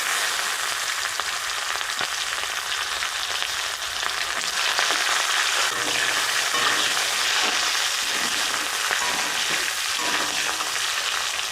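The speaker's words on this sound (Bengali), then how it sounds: "এবারে পেঁয়াজ দিয়ে দেবো।" Sliced onions sizzling in hot oil tempered with dried red chilli, cumin seeds and bay leaf while cooking cauliflower, a continuous loud frying hiss with occasional stirring scrapes and no talk.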